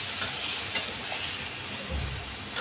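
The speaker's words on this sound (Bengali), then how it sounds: "এইবার আমি এই শাকটা দিয়ে দেবো।" Pumpkin greens tossed into a hot pan and stirred, a close, steady sizzle with a few sharp spatula scrapes and clacks, heard alone.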